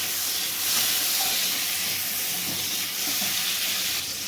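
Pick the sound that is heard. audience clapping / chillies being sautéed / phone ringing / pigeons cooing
chillies being sautéed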